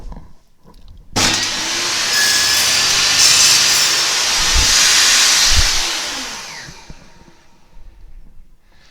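Table saw cutting partway through a workpiece for a half lap joint, a loud, close blade whine and hiss that starts abruptly, holds steady for about five seconds, then fades as the blade spins down.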